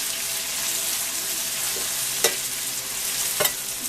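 Mushrooms sautéing in a pan for beef stroganoff give a steady, close broadband sizzle, with a couple of sharp scrapes or stirs of the utensil cutting through near the end.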